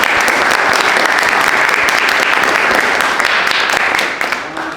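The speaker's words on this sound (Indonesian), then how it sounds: "Dan saya minta untuk tepuk tangan sekali lagi." Dense audience applause follows a student science presentation in Indonesia, loud and steady for several seconds before tapering off toward the end.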